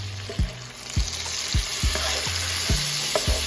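Salmon and shrimp fry in a pan for a Cajun honey salmon and shrimp Alfredo, a steady close sizzle broken by a regular series of soft low thumps, as if food is being stirred or pressed, with no talking.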